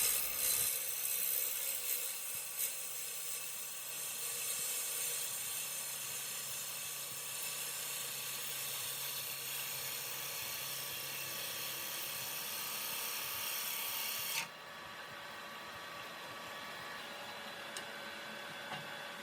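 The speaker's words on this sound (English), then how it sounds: "I will then try to do a nice continuous push cut all the way from the bottom of the bowl right up to the edge of the rim" A wood lathe spins a turning bowl while a gouge makes a continuous push cut from bottom to rim, giving a steady bright hissing whine. It drops abruptly quieter near the end as the cut stops.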